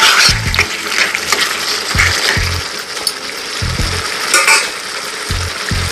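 Bottle gourd and small fish curry sizzles steadily in a pan while a utensil stirs it, with repeated low scraping knocks against the pan in short bursts, close up, and no talking.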